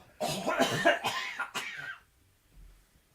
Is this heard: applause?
no